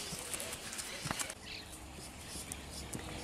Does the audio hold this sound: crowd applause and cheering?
no